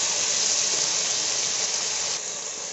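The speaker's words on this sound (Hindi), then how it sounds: "इनको मैं अच्छे से फ्राई कर लूंगी।" Vegetables sizzle in a hot pan for aloo fried rice, a steady, close, even hiss of frying that drops slightly in level near the end, with no talking over it.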